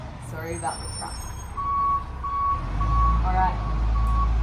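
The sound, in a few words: truck reversing beeps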